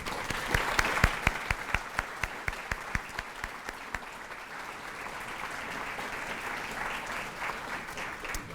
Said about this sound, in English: Big round of applause for Louise